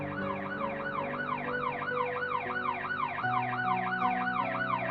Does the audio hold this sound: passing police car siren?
yes